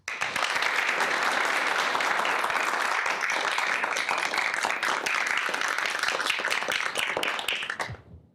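Sustained applause from an in-person audience welcoming a dean onto a business talk stage, dense and steady for about eight seconds before fading out at the end.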